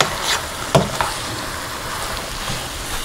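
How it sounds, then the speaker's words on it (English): Softened onions in a pot are stirred with a few brief scrapes and knocks from the utensil over a faint steady sizzle, close by with no talk. "let's give this a stir"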